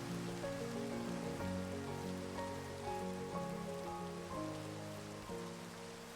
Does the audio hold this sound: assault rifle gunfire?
no